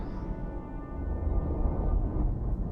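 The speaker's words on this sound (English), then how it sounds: "So I'm doing that rumbling." Low, slow rumbling drone from a Csound synthesizer patch, a dense sustained bass roar that swells slightly louder partway through and holds steady without talk.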